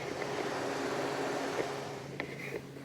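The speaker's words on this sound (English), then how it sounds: "But you can actually hear the fan is on." An aftermarket cooling fan runs on a supercharged C6 Corvette, giving a steady close whirring drone with a faint tonal hum and a couple of light clicks.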